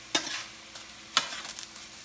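Food browning in a little olive oil in a pan, a soft steady sizzle with two brief stirring scrapes, fairly quiet and close.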